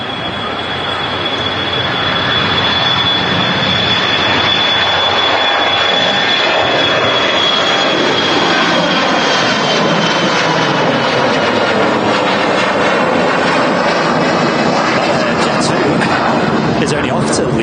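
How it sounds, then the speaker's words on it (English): A Jet2 aircraft at Manchester Airport, a loud steady jet engine roar with a sustained high whine, running throughout under people talking. "So I didn't realise Jet2 did flights today."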